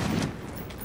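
Gunfire rings out during a Call of Duty: Modern Warfare battle, a dense, steady wash of shooting and ambient combat noise with a sharper crack arriving right at the end.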